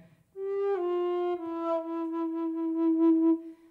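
An Eagle alto recorder by Adriana Breukink plays a sustained low E, a clear, steady, pure-toned note held alone for about three seconds with a slight swell partway through.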